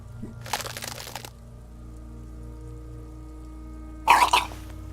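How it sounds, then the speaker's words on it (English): A vomiting sound effect from the game Disco Elysium plays as two wet, gushing bursts, the first longer and the second shorter and louder, over a low, steady ambient hum. "Your body curls and pushes it out, burst by burst, until a pool of vomit lies under your feet"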